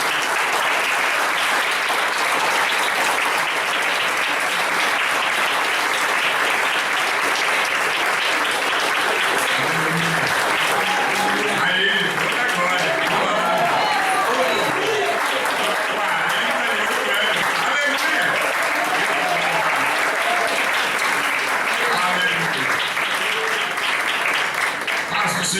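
A packed congregation at a church anniversary service applauds loudly and continuously for a long stretch, with cheers and voices rising through the clapping.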